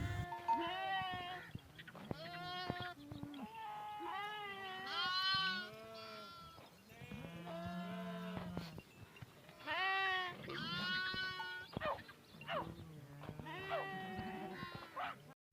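Sheep and goats in a Cholistan desert village in winter bleat repeatedly, a string of loud, wavering calls from several animals close by, with short pauses between cries.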